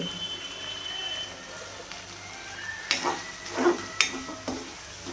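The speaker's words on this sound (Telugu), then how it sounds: "వేసుకొని కొద్దిగా ఫ్రై చేసుకుందాము" Mutton brain fry with green chilies and coriander sizzling in a pan, a soft steady crackle with a few sharper spits and stirring clatters toward the end, moderately close.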